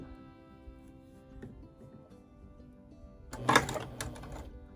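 A sewing machine stitches quilt pieces cut on the bias, first as a soft steady whir, then as a louder burst of rapid mechanical clatter near the end.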